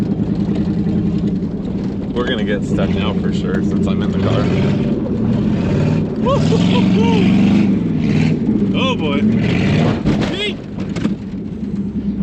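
A Cummins-swapped truck engine nicknamed the FUMMINS idles with a steady low rumble under the whole stretch, close and loud, while people talk over it.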